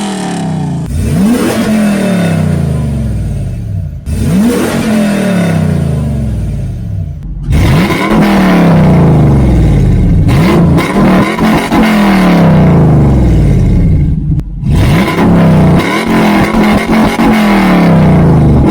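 A fourth-generation Toyota 4Runner V8 with its exhaust cutout open revs repeatedly, each loud, raspy blip rising and falling in pitch, with short pauses between roughly five separate bursts, close and aggressive.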